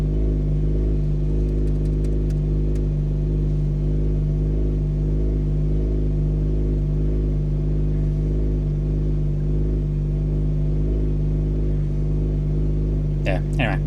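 A Mazda RX-8 rotary engine, running a Haltech R3 tune, idles while warming up with a steady, loud, low rumble. The tone holds even throughout, with a brief rise near the end.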